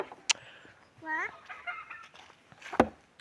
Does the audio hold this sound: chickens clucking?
yes